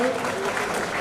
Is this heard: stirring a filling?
no